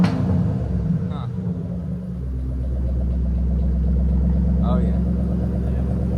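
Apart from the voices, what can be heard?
2012 Ford GT500 supercharged engine revving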